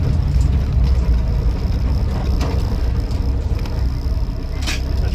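A Land Rover Series IIa 88in soft top engine runs while driving, a steady, close, low mechanical rumble that holds throughout with no voices.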